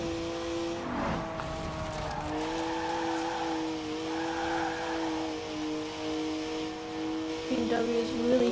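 A BMW 1M with a 3-litre straight-six in Forza Horizon: a steady, humming engine note rises and settles through gears, with tires squealing briefly early on and again as the revs climb near the end.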